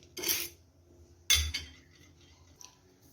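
Heated salt being scraped out of a pan to cool, two bright scraping bursts of utensil against the pan with a faint clink near the end, close and otherwise quiet, no talking.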